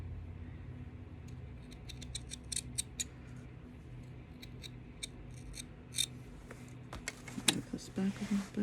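Scissors cut through wool in a quiet room with a repeated crisp snipping rhythm. The close cuts come in quick runs, with louder snips and some handling noise toward the end.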